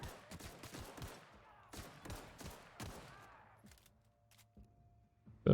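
Pistol shots in The Outer Worlds, a series of sharp, evenly spaced single reports with ringing tails, fairly faint, fading out into a quiet hum with a click at the end.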